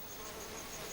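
A mud wasp buzzing steadily and close for about a second, a continuous insect drone with no other sounds.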